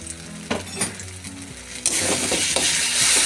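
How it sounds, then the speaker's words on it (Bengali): Ground chilli and turmeric sautéing in a pan for a catfish curry, with a few spoon clinks and stirring scrapes before the sizzle swells into a loud, dense, continuous hiss with no talk. "ভালোভাবে গুঁড়ো মশলাগুলো কষিয়ে নেবো।"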